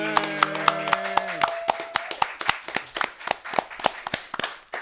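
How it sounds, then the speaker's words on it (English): A small audience claps for a young girl, sharp distinct hand claps in a loose, uneven rhythm, close and fairly sparse, briefly overlapping a short tonal sound at the start. "Clap it up for Amina."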